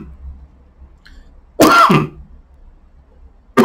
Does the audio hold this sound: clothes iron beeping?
no